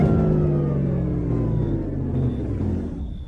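A Dodge Hellcat V8 muscle car engine runs with a deep, steady rumble and a rising rev, loud and close, continuing without pause for a few seconds.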